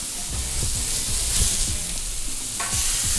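Smashburgers sizzle steadily on a Blackstone flat-top griddle, a loud continuous frying hiss with a sharp scrape as a sharp spatula slides underneath to flip them, with no talking.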